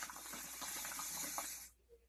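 Liquid is poured from a container into a vessel during an unboxing, a steady close splashing gush lasting under two seconds before stopping abruptly, with no talk.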